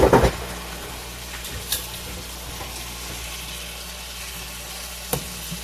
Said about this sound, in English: So I'm actually going to put them in here to cook with the hamburgers